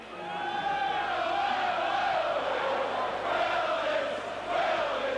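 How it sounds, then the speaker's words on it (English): Leeds rugby league supporters chant and shout together in the stadium during a 1989 Regal Trophy match against Bradford Northern, a dense, continuous crowd roar with sung chanting heard from some distance above the stands. "You'll hear the Leeds supporters below me shouting now."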